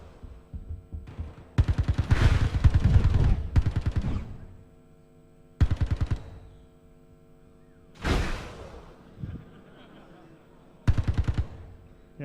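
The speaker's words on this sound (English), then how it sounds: "show the electric shotgun's always a fun one to use" Electric shotgun firing in the video game Star Citizen, shown at Gamescom 2015: several loud, sharp bursts spaced a few seconds apart, some in quick double clusters, with a lingering electric crackle after one.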